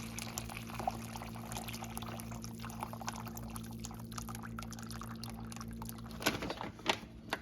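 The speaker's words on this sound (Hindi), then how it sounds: "अब सारी यखनी हम एक डिश में निकाल के" Beef yakhni stock for Pakistani beef pulao pours steadily into a dish for several seconds, with a continuous liquid splash over a low steady hum and a few louder clinks near the end.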